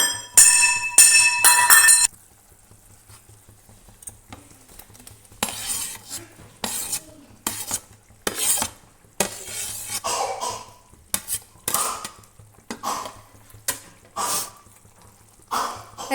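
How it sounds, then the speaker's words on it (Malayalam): A spoon stirs fried capsicum and onion into a curry in a pan, giving a series of close scraping and clinking strokes with faint sizzling between them, after a brief burst of brighter clatter at the start. "എല്ലാം കൂടെ നന്നായി ഒന്ന് മിക്സ് ചെയ്ത് കൊടുക്കുക."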